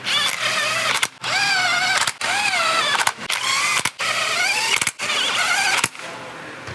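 Power tool with a 10 mm socket runs down bolts on the clutch cover of a Pro XP Stage 2 clutch kit, in six or seven loud whirring bursts each about a second long, separated by short pauses.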